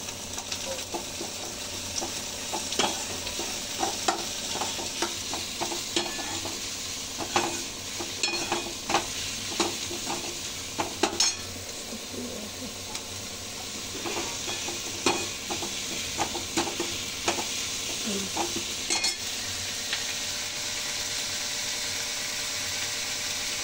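Chopped tomato with ginger sizzles steadily in a frying pan while a utensil stirs it, scraping and clattering irregularly over the constant close hiss.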